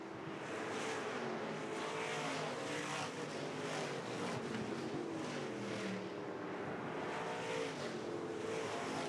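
IMCA stock cars race wheel to wheel down the back straightaway at RPM Speedway during the Sunflower Classic A feature, a loud continuous engine roar with tire noise sustained throughout and no talk.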